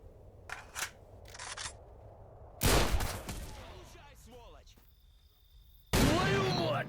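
Bursts of gunfire sound in a firefight in the video game S.T.A.L.K.E.R., with short sharp shots early, then two loud sustained volleys amid chirpy ricochet-like effects, while someone talks quietly underneath.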